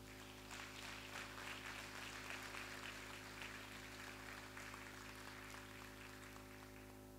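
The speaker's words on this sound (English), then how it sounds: "I think the Prime Minister deserves another round of applause" An audience at an opening ceremony gives the Prime Minister another round of applause, a steady, moderately faint wash of clapping heard through a room with a constant low electrical hum underneath.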